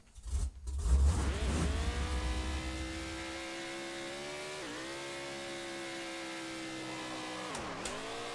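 A car drifting in a video game, with a loud engine roar and tire rumble at the start that settles into a steady, sustained high engine whine with brief pitch dips as the car slides.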